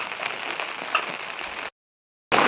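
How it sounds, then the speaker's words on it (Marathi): Heavy monsoon rain pours in Konkan as a dense, steady hiss of drops on surfaces, cutting off abruptly into silence before resuming just as loud. "आज आमच्याकडे भरपूर पाऊस पडता"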